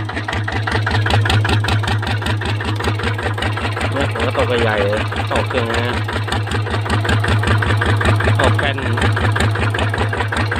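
Loud, close Ryuka RT155 motorcycle idle with a rapid, even exhaust putter throughout, and someone talking briefly over it midway.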